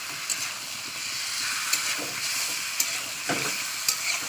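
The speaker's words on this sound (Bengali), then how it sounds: "শুধু তেলের উপরে আমি ভালো করে কষিয়ে নিচ্ছি মানে মাংসটাকে ভাজা ভাজা করে নেবো" Meat sizzles steadily in a little hot oil as it is browned, a continuous bright hiss with a few sharp pops and occasional stirring scrapes.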